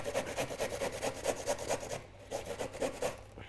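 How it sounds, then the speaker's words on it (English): Peeled daikon radish is rubbed quickly across a fine grater, making a close, rhythmic rasping in rapid back-and-forth strokes that briefly slows near the end. "We've got a fine grater, and we're just going to grate the muli very quickly"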